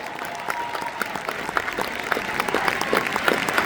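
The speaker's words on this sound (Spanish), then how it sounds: "Un aplauso a ellos." Audience applause at a November 2025 convention, a steady wash of clapping that swells slightly toward the end, dense and fairly close, with no speech over it.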